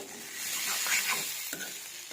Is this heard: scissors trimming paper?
no